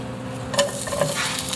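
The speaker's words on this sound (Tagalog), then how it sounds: "Muna natin igisa itong bawang." Chopped garlic sautéing in a hot kawali for adobo, a steady close sizzle with a few light stirring scrapes and clinks, no voices.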